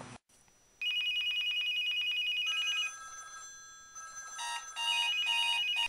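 An electronic alarm rings in bursts of rapid high beeping, pausing and changing pattern, then resuming loudly and close by.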